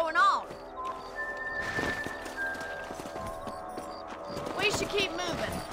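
Horses trotting in the Red Dead Redemption video game, a steady clip-clop of hooves under music and game sounds, with a louder burst near the end.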